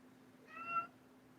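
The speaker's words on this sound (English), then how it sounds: "Leave the kittens alone, Toby." Kitten giving a single short, thin meow partway through, faint and a little distant over a low steady background hum.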